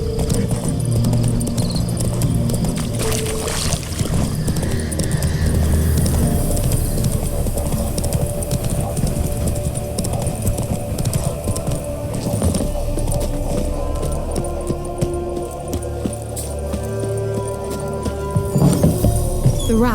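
A horse gallops in The Witcher 3, with continuous rhythmic hoofbeats carrying through the whole stretch under steady game ambience, and no one speaking over it.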